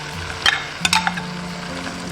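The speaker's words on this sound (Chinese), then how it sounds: "油热过后，倒入海蛎煎" Oyster omelette batter poured into hot oil in a pan sizzles steadily over low heat, with a few sharp clinks and scrapes of a utensil against the pan near the start.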